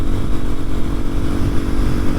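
A 2023 Kawasaki KLX230SM supermoto runs loudly and close, its single-cylinder engine droning steadily with slight throttle fluctuation and no voices over it.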